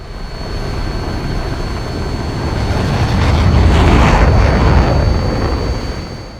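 Jet aircraft roar during a dogfight between F-8 Crusaders and MiGs, a loud, broad rumbling swell that builds toward the middle and fades, with a steady high whine running throughout.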